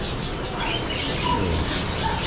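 Caged birds chirp and tweet in a busy pet shop in Manila, with faint overlapping calls set in a dense wash of crowd noise and background chatter.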